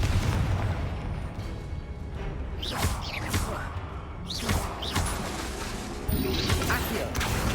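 Confringo spell blasts burst in a dense Hogwarts Legacy fight, crackling explosive whooshes and bangs layered over a loud, constant wash of combat noise, with several bright flares spaced a second or two apart.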